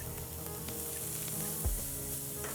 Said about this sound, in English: Now to that, I'm going to add a stick of butter.